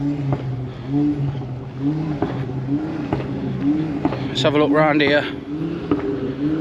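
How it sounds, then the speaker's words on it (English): A Ford Mark II's engine idles and is revved among crowds at the Ford Fair at Silverstone, a steady droning note with rising pulls. Someone talks over it throughout. "Got a Mark II owner giving it some revolutions."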